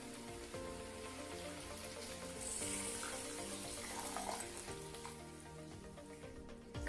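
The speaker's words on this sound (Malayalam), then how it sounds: "ഈ വെള്ളം കൂടി ചേർത്ത് കൊടുക്കുന്നുണ്ട്." Tamarind water poured into bitter gourd masala in a hot pan, a soft continuous sizzle and liquid hiss that rises as the water goes in, fairly quiet and with no talking.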